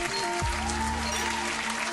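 A brief burst of steady clapping fills a morning talk show studio, dense and even throughout, with a faint hum beneath it.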